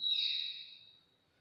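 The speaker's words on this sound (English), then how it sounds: "I'm sorry if you hear the voices of my parrots in the background." A single faint, high whistling call from pet parrots downstairs rises briefly and then fades away, heard distant and alone in an otherwise quiet room.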